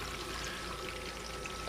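Water flows steadily across a washer mat, a continuous dense rushing pour with no breaks, fairly close and even in loudness.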